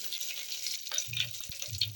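Curry leaves and mustard seeds sizzle in hot oil with a faint, steady hiss, broken by a few soft low thuds.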